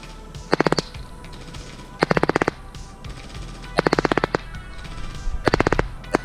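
A Specna Arms Flex SA-F02 airsoft replica fires four quick bursts of rapid shots at a target, each burst a sharp rattling string of cracks separated by quieter pauses, fairly close and loud.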